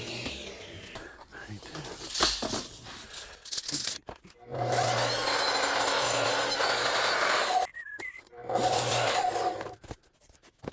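A table saw cuts through thin luan plywood in bursts, with a rasping, scraping buzz of the blade in the sheet broken by short pauses and handling noises, close and fairly loud.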